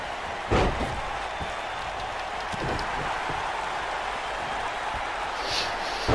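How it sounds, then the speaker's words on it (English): In a WWE video game, a wrestler slams Finn Balor to the mat, a sharp impact thud near the start, then a crowd murmur and a few fainter thumps, with soft commentary voices beneath. "And slams Finn Balor to the mat."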